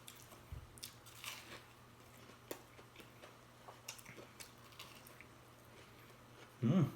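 A crunchy corn dog is bitten and chewed close up, with faint scattered crisp crunches followed by a louder burst at the end.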